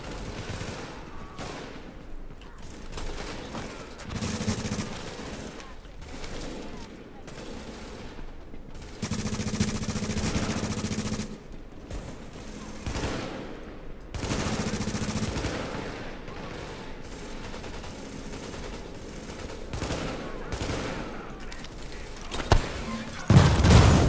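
Video-game gunfire from behind in The Division rattles through a long stretch of repeated bursts, some loud and close, others fainter, with heavier volleys clustered midway and near the end.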